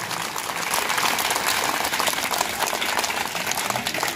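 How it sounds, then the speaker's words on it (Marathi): Audience applause at a school prize-giving event in Hingoli, a dense, steady wash of clapping from a crowd that holds evenly loud throughout without any voices. "त्यांच्यासाठी परत एकदा जोरदार टाळी"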